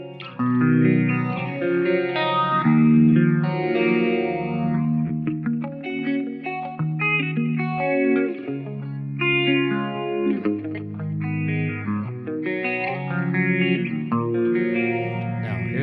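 An electric guitar plays shimmering chords and melodic lines, its tone swirling and wide from chorus and Phase 90 phaser modulation, steady and fairly loud throughout.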